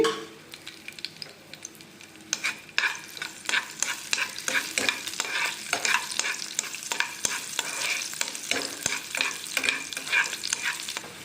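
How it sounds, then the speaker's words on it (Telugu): Urad dal and garlic cloves fry in hot oil in a pot for a Telugu chintakaya dosakaya chutney tempering, giving a steady loud sizzle with repeated scraping stirs in an irregular rhythm, close up and without talk. "ఇప్పుడు ఒక స్పూన్ మినపప్పు నాలుగు వెల్లుల్లి రెబ్బలు వేసి ఫ్రై చేసుకోవాలి"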